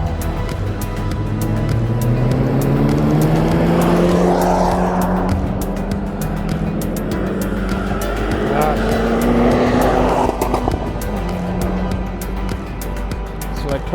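Race cars lap the Nürburgring, engines rising and falling in loud overlapping passes with tire noise, close and continuous throughout, while a person talks underneath.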